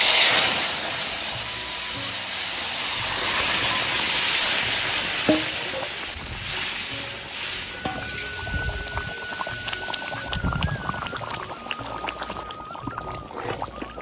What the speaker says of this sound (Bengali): এবার আমি ফোড়ন দিয়ে দেবো